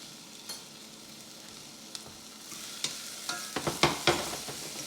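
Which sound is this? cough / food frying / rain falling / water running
food frying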